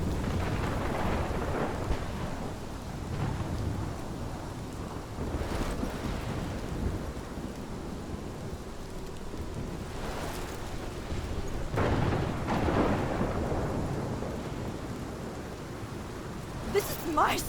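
A thunderstorm in the video game Life is Strange: heavy rain and wind roar steadily with deep rumbles of thunder rolling through, while characters speak over it.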